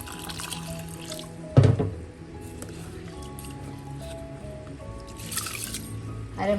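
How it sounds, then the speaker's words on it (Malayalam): Water poured into a vessel of basmati rice to soak it, a brief splashing gush followed by faint trickling and dripping in a quiet kitchen. "നമുക്ക് കുതിരാനായി കുറച്ച് വെള്ളം ഒഴിച്ച്"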